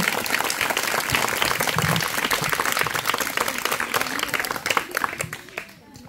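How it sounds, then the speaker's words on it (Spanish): A crowd at a Christmas party applauds loudly and close by, with dense clapping and some cheering voices mixed in, before it fades away near the end. "Por favor, un aplauso."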